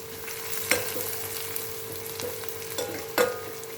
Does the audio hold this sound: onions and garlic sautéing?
yes